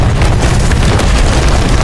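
Several dynamite charges set as a trap blast a robot in an alien-robot action film, a loud, dense, continuous roar of explosion rumble filling the whole moment.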